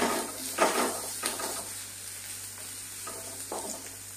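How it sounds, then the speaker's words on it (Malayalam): Onions and green chillies sauté in a pan for an okra and tomato curry, a soft, steady sizzle with a few spatula scrapes and stirs against the pan, with no talking. "ഇനി അതിലേക്ക് നമുക്ക് ഈ സവാളയും പച്ചമുളകും കൂടി ഇട്ട് കൊടുക്കാം. ഇതും കൂടി ഒന്ന് വഴറ്റിയെടുക്കട്ടെ."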